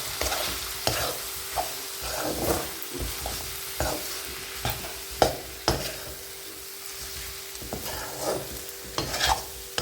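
Chicken with roasted, ground curry leaf masala being stirred in a pan, with repeated spoon scrapes and clinks over a low steady sizzle of frying, close and alone with no talk.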